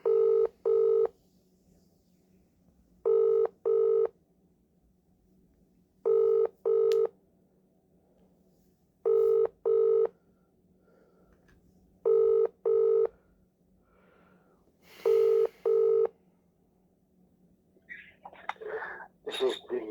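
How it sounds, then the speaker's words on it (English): A telephone rings out while calling a council solicitor, giving a regular sequence of paired tonal ring bursts over a faint hum, and some rustling noise follows near the end. "Ringing up Graeme Kenna."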